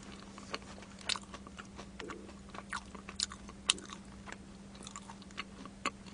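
Crunchy bites and chewing on a potato snack dipped in sauce at a fried chicken meal, a string of sharp crisp crunches close to the mic over a steady low background hum, with no talking.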